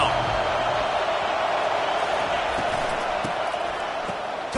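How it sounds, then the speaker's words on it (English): Stadium crowd at a football game roars steadily on third down, a dense, loud, sustained wash of voices with no breaks, swelling slightly throughout. "Decibels rising as the crowd gets behind this defense on 3rd down."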